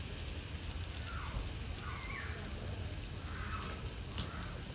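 Garden hose spray nozzle on shower mode, a soft, even patter of spray like steady rain throughout, fairly faint, with faint background sounds and no clear talk.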